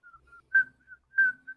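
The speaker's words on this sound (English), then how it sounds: "just start whistling a little bit" A person whistles a short, steady tune of sustained notes with two louder breathy accents, close and alone with no talk.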